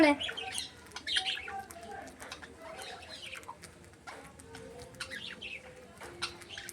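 Budgies chirping and squawking close by, quick bright chirps in bursts, with some fluttering and faint rustling between calls.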